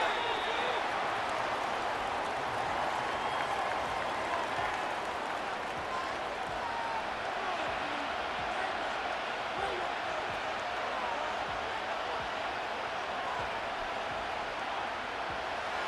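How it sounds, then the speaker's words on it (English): A stadium crowd roars in Madden NFL 25 during a Chargers vs Texans wildcard game before third and goal, a loud continuous wash of cheering and rumble that holds steady throughout with no gaps. "This crowd doing everything they can before 3rd and goal."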